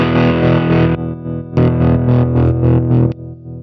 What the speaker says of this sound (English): it says distortion. That temporarily maxes out this grit control. So as you're pressing it, it just like goes crazy